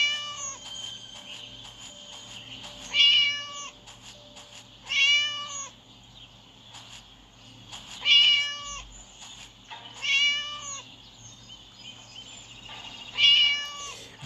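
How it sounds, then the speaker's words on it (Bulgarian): Cat meowing in the Minecraft video game, a series of five drawn-out mews repeating about every two seconds at steady loudness, with no other sounds. "защо имам чувство, че котката е навсякъде"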